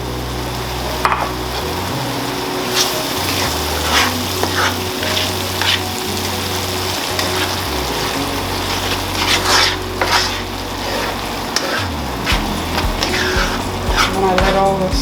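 Tomato frying and being stirred in a seafood stew pot, a steady loud sizzle broken by repeated scrapes and clatters of the spoon against the pot, with a low rumbling hum running underneath.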